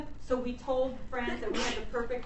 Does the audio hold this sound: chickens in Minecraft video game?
no